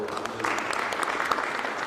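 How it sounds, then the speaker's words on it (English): A crowd applauds at the opening ceremony of a college baseball game between Brown and URI, a brief burst of scattered clapping heard from a distance with a voice faintly underneath. "So a big round of applause there."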